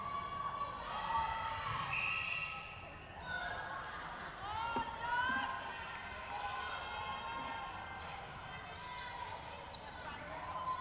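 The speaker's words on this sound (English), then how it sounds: "Crowd are maintaining their excitement here as we hear them cheer all the passes that Trinidad and Tobago make" A crowd cheers at a youth netball match between Trinidad and Tobago and Grenada. The cheering rises and falls, mixing with shouts and a ball bouncing on the court, while a voice speaks over it.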